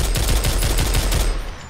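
Rapid automatic gunfire in Fallout: New Vegas, Lonesome Road DLC, with about half a dozen punchy, evenly spaced shots in quick succession, loud and close, then a brief tail.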